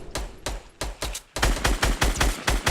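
Gunfire in a video game: a few spaced single shots, then a fast steady burst of loud close rounds, with no talking over it.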